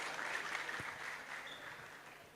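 A crowd at a women's leadership summit and gala applauds a doctor, a fairly faint, distant wash of clapping that holds steady and tapers slightly toward the end.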